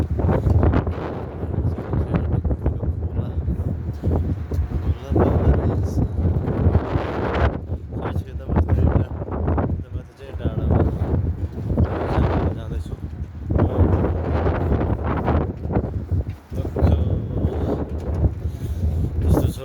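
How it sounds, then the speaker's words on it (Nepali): Cold wind blows hard across the microphone, a continuous rough roar and buffeting that rises and dips for the whole stretch, with muffled voices underneath. "चिसो हावा चलेको छ"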